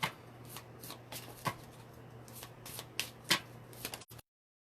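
Tarot destiny cards being shuffled by hand, a run of quick papery riffles and soft slaps at irregular intervals, fairly close and quiet, ending in abrupt silence.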